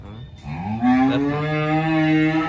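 Cattle on a cow farm give a loud, close, drawn-out moo that rises and holds steady, with faint background noise around it.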